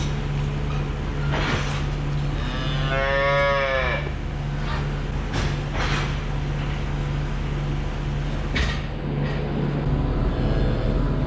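Cows and calves moo in a barn. One drawn-out moo rises and falls over a steady hum and the low clatter of the barn.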